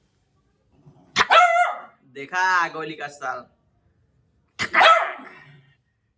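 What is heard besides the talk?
dog barking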